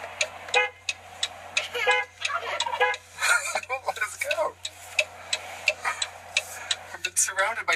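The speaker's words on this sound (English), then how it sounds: "Surrounded by turkeys." Several wild turkeys gobble repeatedly close by around a van in New Jersey, in rattling bursts overlapping one another, with a low steady hum underneath.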